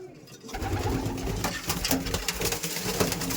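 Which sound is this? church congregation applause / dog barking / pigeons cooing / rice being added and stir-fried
pigeons cooing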